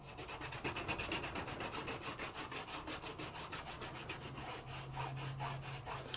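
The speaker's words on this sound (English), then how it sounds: "I'm going to give it a really nice burnish with my finger." A fingertip burnishes die-cut paper in fast, rhythmic rubbing strokes, a close, soft scratchy swish repeating steadily with no talk.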